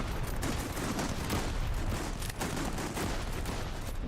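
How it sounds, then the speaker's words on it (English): Pistol gunshots in a video game firefight, a steady, dense stream of cracks and pops layered over constant loud background noise with no pauses. "I killed him with my pistol"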